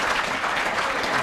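An audience applauding to welcome poet Tim Seibles at a public poetry reading, a steady, full wash of clapping from a crowd filling the short stretch without pause.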